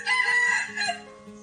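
A rooster crows once, a loud, close, drawn-out call with a rising and falling shape that fades toward the end, with no talking over it.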